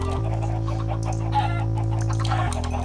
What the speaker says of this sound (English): Get out of here, chickens.